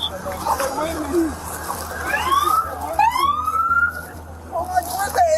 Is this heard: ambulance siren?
yes